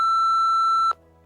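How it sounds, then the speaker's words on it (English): A single long, steady electronic tone from an answering machine right after a Spanish voicemail greeting, lasting under a second and cutting off sharply into near silence. "Deje su mensaje después de la señal."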